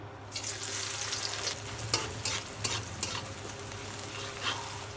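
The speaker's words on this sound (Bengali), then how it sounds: "তেল গরম হয়ে গেছে। এবার পেঁয়াজ দিয়ে দিব।" Onions fry in hot oil in a karahi with a steady sizzle, while a utensil stirs and scrapes the pan in a few distinct strokes.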